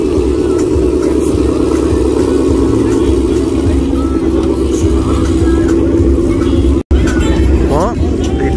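A Ford Mustang engine rumbles steadily at close range, with a brief rising rev near the end, while people talk over it.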